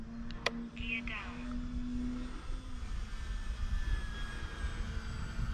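An E-Flite P-51D radio-controlled model airplane flies at night with a steady electric motor drone that shifts in pitch as the throttle changes, heard outdoors while a person talks over it.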